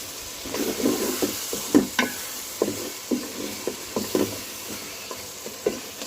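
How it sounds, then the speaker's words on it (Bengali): Chopped papaya sautéing in a pan with bay leaves for chicken curry, with a soft steady sizzle and repeated scraping knocks of a spoon stirring every half second or so, close and alone. "তেজপাতা দিয়ে দিলাম তিনটা পেঁপেগুলো আগে পাঁচ মিনিট মতো কষিয়ে নেব"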